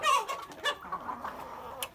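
A Minorca rooster clucking on a farmyard, a short series of close, moderately loud throaty clucks and calls over a faint background.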